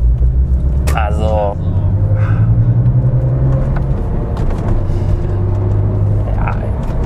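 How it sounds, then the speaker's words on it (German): A 1999 Porsche 911 Carrera 4 Cabrio (996) engine rumbles steadily while driving, a low continuous drone beneath someone talking over it. "mit so einem schönen Sounderlebnis vom Porsche."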